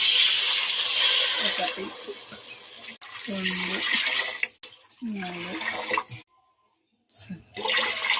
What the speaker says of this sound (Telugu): 3 చెంబులన్నర వాటర్ పోయాలి